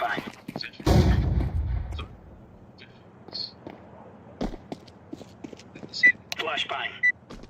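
A flashbang grenade goes off in Counter-Strike 2 with one loud, heavy burst that rumbles for about a second. Fainter clicks, a few sharp pops and brief bits of sound follow.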